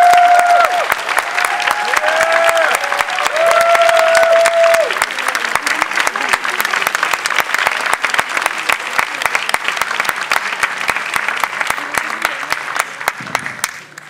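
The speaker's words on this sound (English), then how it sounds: "So please join me in a warm round of applause for Rigoberta" An awards-ceremony audience claps warmly and steadily for several seconds, a dense wash of applause that fades toward the end, with a tonal musical sound and faint talk underneath early on.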